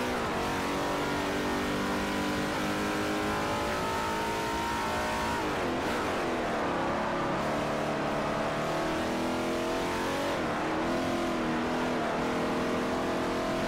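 A Nissan Super GT 500 race car in Forza Motorsport 4 roars with a loud, sustained engine note, revving up through gears with shifts and brief drops in pitch, continuous throughout with no talk.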